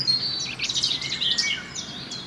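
Native and migrating birds sing and chirp in a cemetery on Barnes Common, London. Several bright, overlapping twittering phrases rise close and clear over a quiet background.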